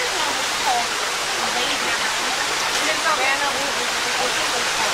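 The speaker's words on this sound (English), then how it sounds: "Yeah, but there's a waterfall back there." Waterfall roaring as a dense, steady broadband rush of falling water, loud and close, continuous for the whole stretch with faint voices underneath.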